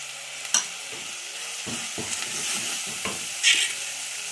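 Banana flower vegetable being stirred and sautéed with onion-coconut masala in a village kitchen, a soft steady sizzle with a few scraping stir strokes and light clinks, close and without talk.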